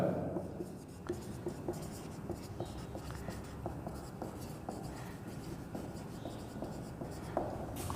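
Pen writing a letter on paper, quiet close scratching strokes in short irregular bursts with small taps, continuing steadily without talk.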